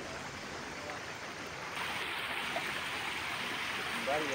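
Water from an overflowing village lake rushes and gurgles continuously nearby, a steady flowing roar that grows slightly louder partway through.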